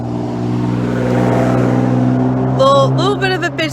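Cars pass on a busy street next to a Woodinville rain garden, a swelling engine hum with tonal whine, then people begin talking over the fading traffic near the end.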